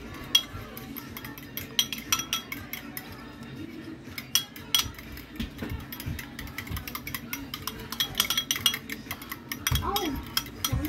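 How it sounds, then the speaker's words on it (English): Eggs whisked in a bowl, a quick irregular clinking and scraping of the whisk against the sides that keeps going throughout, with soft voices in the background. "So I'm gonna whisk these eggs up"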